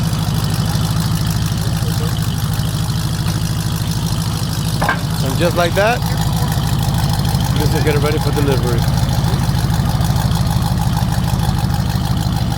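Jeep Grand Cherokee SRT with its catalytic converter and mid muffler deleted idles in a steady, deep rumble that runs the whole time, with a person talking over it.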